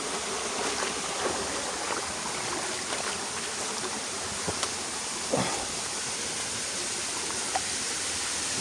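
Water flows steadily in a stream at a rural site in Cagayan, giving a continuous broadband rush with a few faint clicks and knocks.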